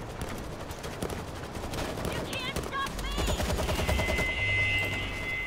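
Dense rapid gunfire from the World War Z video game rattles in continuous bursts, loud and close, with chiming metallic game effects layered over it toward the end.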